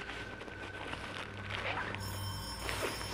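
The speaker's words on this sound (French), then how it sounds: "C'est le téléphone rouge?" A telephone rings inside a supposedly haunted manor at night, its bell tone sounding faintly through a noisy, echoing room.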